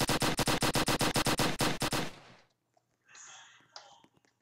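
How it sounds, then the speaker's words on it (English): A rocket fired in the Roblox video game, heard as a rapid burst of sharp, evenly spaced cracks for about two seconds, followed by quieter game effects and faint noises. "That's a rocket."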